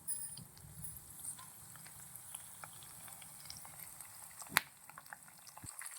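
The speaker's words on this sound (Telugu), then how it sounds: "గ్రౌండ్ నట్స్, క్యాషూ నట్ ఇవన్నీ ప్రాపర్గా బాగా వేయించుకోవాలండి" Peanuts and cashews frying in tempering oil for a drumstick-leaf citron pulihora, giving a quiet, steady sizzle with a single sharp click partway through.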